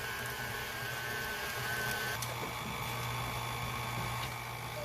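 Electric mixer whirring steadily through applesauce cake batter, a continuous close motor drone with no talk.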